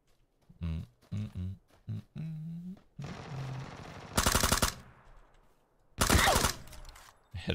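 Two loud, close bursts of rapid automatic gunfire sound in a video game shooter, following a stretch of low grunting voice sounds.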